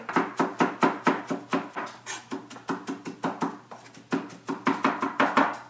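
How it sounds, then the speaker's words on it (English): A knife chops parsley on a cutting board in quick, steady rhythmic strokes, about three to four per second, close and clear with no talking. "You'll just want to chop up your parsley until it's kind of minced pretty fine."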